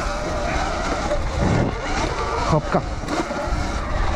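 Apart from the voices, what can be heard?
Surron electric dirt bike riding and skidding on track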